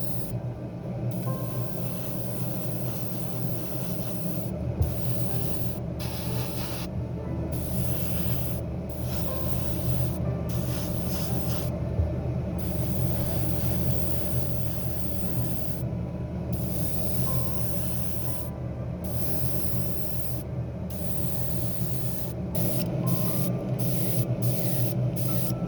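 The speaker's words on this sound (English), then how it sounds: "You need to make sure you're not over spraying these fence type of mask elements." A spray gun lays paint onto BMW M4 G82 wide body kit parts in a steady, loud hiss that runs on without a break, with short pauses in the hiss as the trigger is let go and pressed again.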